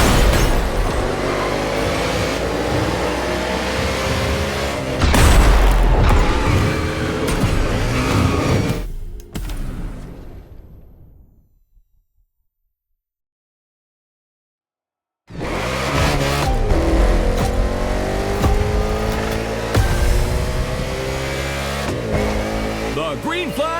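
Race cars roaring through an urban street circuit in Hawaii in The Crew Motorfest, with loud engine drone and revving, a near-silent gap partway through, then the engines surge back; a voice talks over the action.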